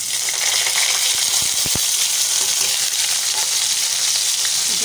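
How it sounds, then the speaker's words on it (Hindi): Green chillies, green onion and ginger hit hot oil and fry with a loud, steady, close sizzle. A few sharp pops and light knocks come through in the middle, and no one talks. "यहाँ पर ऑयल हो गया है गरम, उसमें जो है हरी मिर्च और जो है हरी प्याज और अदरक जो है के साथ डाल दूँगी"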